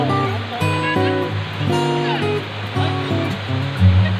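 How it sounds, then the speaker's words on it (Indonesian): Rushing water splashes at a spring-fed bathing spot at the foot of a mountain in a village, a constant roar heard close under loud music playing throughout. "Kami jadi semangat untuk melihat air yang mengalir deras"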